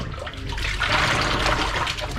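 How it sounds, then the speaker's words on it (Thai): A brass name plate is rinsed under plain water, giving a steady, close splashing rush of running water that holds throughout without pause. "เราก็มาล้างน้ำเปล่าอีกรอบ อ่า นี่ล้างน้ำเปล่า"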